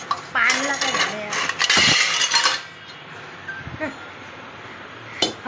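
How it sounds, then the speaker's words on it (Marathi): A metal pan for making bhakri is pulled out in a home kitchen, giving a burst of clattering, clinking metal from about 0.4 to 2.6 seconds, followed by quieter handling and one sharp clink near the end. "हा भाकरीचा पॅन आला"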